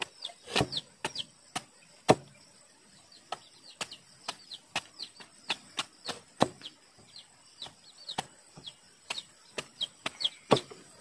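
Several roosters and hens cluck and chirp in a quiet farmyard, with sharp, irregular clicks and knocks scattered throughout at close range.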